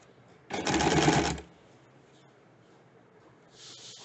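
A home sewing machine stitches across the joined ends of elastic in one close, loud burst of about a second, followed by quiet and a faint later whir.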